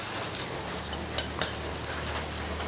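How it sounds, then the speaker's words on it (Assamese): Onions fry in hot mustard oil in a wok for an Assamese taro-leaf dish, giving a steady, soft, close sizzle broken by two quick metallic clinks from the stirring spoon partway through. "পিঁয়াজখিনি মই ৰঙচুৱা হোৱালৈকে মই ভাজি ল'ম"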